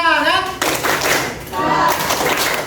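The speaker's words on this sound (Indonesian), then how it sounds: "mari kita tepuk semangat sekali lagi" A primary school class performs a rhythmic spirit clap together in a classroom, a short burst of group clapping close by, with children's and a teacher's voices mixed in.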